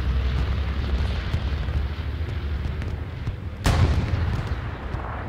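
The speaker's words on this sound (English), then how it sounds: "Well, that was a bombing run," Bombing run in a competitive World War II shooter match, a continuous roar of rumbling explosions and distant artillery-like booms, with one sharper, louder blast partway through before the heavy rumble carries on.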